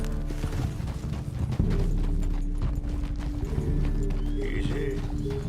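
Horse hooves clip-clop at a steady walking rhythm during a ride in a video game, close and continuous over a low musical drone, with a brief snort or whinny-like tone near the end.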